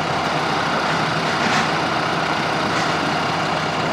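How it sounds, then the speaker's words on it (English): Tractor engine running steadily while forks are fitted to it at a cranberry farm, a continuous broadband mechanical drone with no talk over it. "Dad's putting the forks on the tractor"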